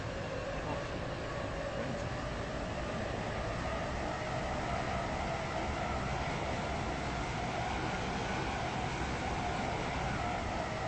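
A train running in the video game Stepford County Railway, approaching a station: a steady, even rumble with a hiss on top that continues unchanged throughout at moderate loudness, with no talking.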